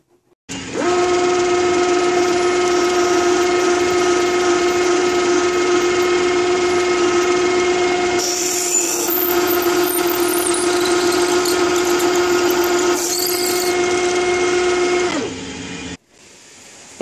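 A drill finishing two holes for valve guides on a Locomobile restoration, a loud steady machine whine with a strong sustained tone that runs unbroken for about fifteen seconds before cutting off, with no talk.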